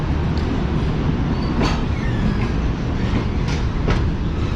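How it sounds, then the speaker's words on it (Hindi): The Tezgam train rolls out of Khanewal Junction with a loud continuous rumble from inside the carriage, punctuated by a few sharp clicks and clacks from the wheels on the rail joints. "तो ये खानेवाल जंक्शन को ट्रेन ने अलविदा कह दिया है सिर्फ 2 मिनट रुकने के बाद।"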